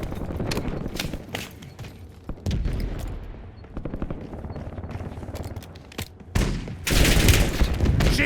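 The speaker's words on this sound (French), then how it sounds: "J'essuie des tirs." Bursts of rapid gunfire crackle through a shooter video game firefight, with dense volleys and single shots in uneven clusters, loudest and busiest near the end, with no talk.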